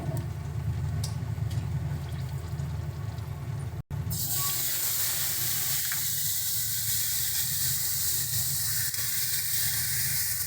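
Onion paste hits hot mustard-style frying oil, previously used to fry pomfret with nigella seeds and dried chilli, bursting into a loud, bright sizzle that follows a brief pause and then hisses steadily on.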